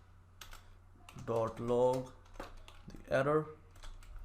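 Computer keyboard typing while writing JavaScript code, a quiet run of clicky keystrokes under a voice speaking throughout.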